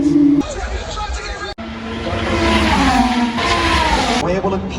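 Vintage race cars roar around the track at the Australian Grand Prix, their engine notes rising and falling as they pass, mixed with crowd babble and a talking voice.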